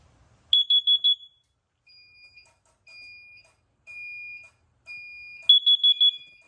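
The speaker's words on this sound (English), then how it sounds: "first we might as well set off the CO detector" CO detector set off during a test: a quick burst of four sharp high beeps, a few spaced single tones, then another burst of four beeps, loud and alone in a quiet room.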